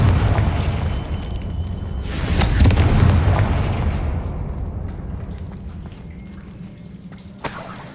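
A Confringo fire spell explosion in the Hogwarts Legacy video game, a deep booming blast with a rumbling tail that slowly fades over several seconds, loud and close, no talking.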